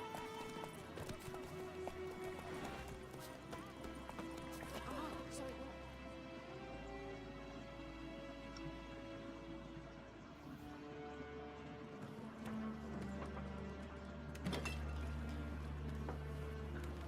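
The horse Roach walking in The Witcher 3: steady clip-clopping hooves with faint clinks of tack, heard under game music and ambient sound throughout.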